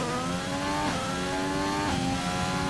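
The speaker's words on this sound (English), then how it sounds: "Comes in nice, high revs again" A race car engine revs high in the GP2 racing video game during a United States Grand Prix race, a loud, steady synthetic engine whine with brief dips at each gear change.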